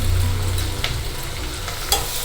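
Sliced onions, cut long and seasoned with turmeric and salt, sauté in a home kitchen pan with a steady close sizzle, a stirring scrape or two and a brief sharper clatter near the end.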